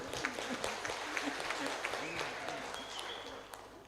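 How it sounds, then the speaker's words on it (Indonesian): An audience at an Indonesian Christian community gathering applauds in a dense, continuous patter of many hands, moderately distant and fairly soft, with faint voices mixed beneath it. "Tepuk tangan dulu."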